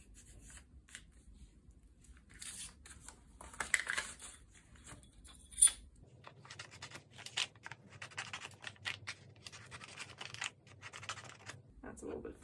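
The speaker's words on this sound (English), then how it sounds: "we're going to cut off the edges" Scissors cut the paper edges for a hardcover Japanese stitch-bound album, with faint, close snips and rustling scrapes coming in bursts. Soft speech can be heard at times.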